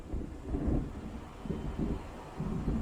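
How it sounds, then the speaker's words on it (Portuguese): Low rolling thunder of an approaching storm in the Alan Wake video game, a dull sustained rumble that swells and fades in waves, distant and fairly quiet, with no talking. "It seems there's a storm coming."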